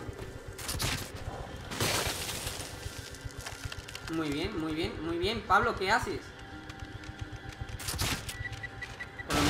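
Gunshots in the horror video game The Evil Within: a few sharp, loud bursts spaced several seconds apart, with someone speaking Spanish over the game's noisy sounds.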